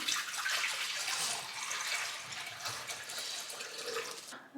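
Nutrient water is poured into the bottom of a semi-hydroponic pot for a variegated monstera, making a steady close splashing trickle that runs for several seconds before stopping abruptly.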